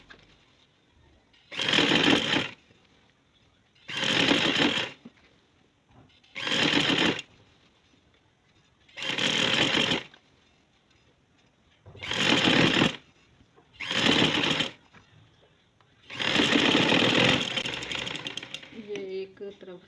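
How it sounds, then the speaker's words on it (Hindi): Sewing machine stitching the side seams of a pair of trousers runs in seven separate bursts of rapid mechanical whirring, each a second or two long, with quiet gaps between where a person talks. "ये साइडों की सिलाइयाँ हम लगाने लगे हैं, ये साइड की सिलाई है"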